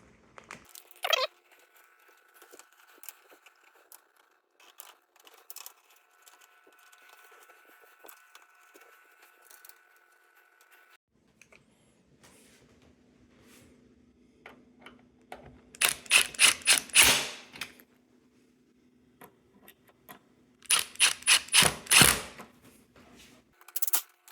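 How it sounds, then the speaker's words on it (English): Screws are driven into the plastic back cover of a Samsung TV, heard as quiet scattered clicks followed by two loud clusters of rapid ratcheting from a driver, near and alone. "I am just going to go through here and put these screws in"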